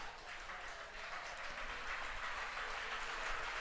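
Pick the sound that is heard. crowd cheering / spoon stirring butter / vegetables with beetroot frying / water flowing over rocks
crowd cheering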